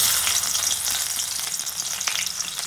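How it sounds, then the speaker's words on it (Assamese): Garlic hits hot oil in a wok for an Assamese-style pork dry fry, giving a loud, dense crackling sizzle with scattered pops and light stirring scrapes, and no voices. "তেল গৰম হৈ গৈছে, এতিয়া আমি ইয়াত দিম নহৰু"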